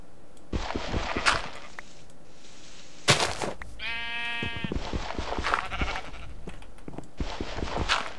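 Sheep bleating in Minecraft, several short bleats spread across the span, one standing out with a clear wavering tone, close and fairly loud amid scattered footstep-like thumps and game noise.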